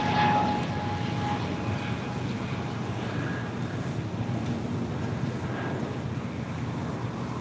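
An airliner takes off from runway 25 right at LAX, a steady broad roar of jet engines heard from a distance, continuous throughout with wind rumble.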